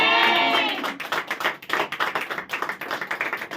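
A congregation claps during a Hindi Christian sermon on the blessing of sowing: dense, continuous applause from many hands, close and fairly loud, with a brief voice at the start before the clapping takes over.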